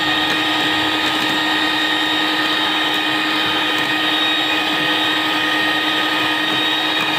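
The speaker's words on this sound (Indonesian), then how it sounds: "Kita mixer terus." An electric mixer beats pumpkin cake batter with a steady, continuous whirring drone that stays constant throughout, with no talking.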